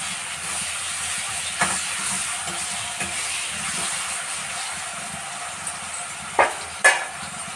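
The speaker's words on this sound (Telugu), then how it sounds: "ఆనియన్స్ అనేవి కూడా సాల్ట్ వేసుకుని ఇలా కలుపుకోవాలి" Salted onions frying in a pan, a steady close hiss and sizzle that runs throughout, with a few brief scrapes and clinks from stirring, the loudest near the end.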